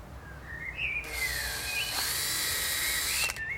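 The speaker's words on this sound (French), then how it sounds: "Percez la glissière." A power drill bores holes through a window insect screen slide rail, a high whining buzz that rises sharply, holds for a couple of seconds with a faint whistling tone, then cuts off.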